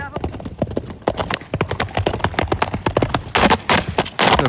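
A young dark horse with a white blaze trots on hard ground, its hooves clip-clopping in a quick, close, uneven rhythm while someone talks over it.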